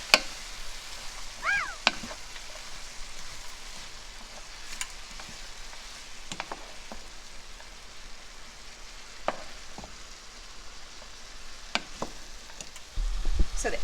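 Cumin and kosher salt being stirred into lentil soup in a pot, with soft sizzling and light clicks of a spoon against the pot, fairly close and quiet.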